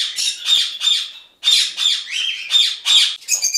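Parrots at a parrot breeding facility in Bursa, including Konur and Senegal parrots, screech in a rapid run of loud, harsh, close squawks, about a dozen in quick succession with a brief pause partway through.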